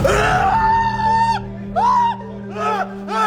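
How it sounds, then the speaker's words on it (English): Several people in a scary video scream and yell in long, rising and falling wails, loud and strained, over a steady low hum, with short pauses between bursts. "Why are they screaming?"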